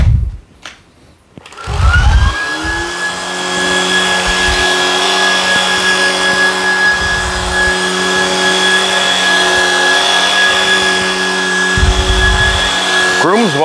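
A Shark Vertex cordless vacuum cleaner runs in a bedroom, starting after a few handling knocks and then holding a loud, steady motor whine with faint brush thumps throughout.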